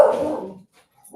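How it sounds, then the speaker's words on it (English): A dog outdoors gives one loud, near bark that fades out over about half a second, then a fainter sound starts after a short silence. "there's a dog outside"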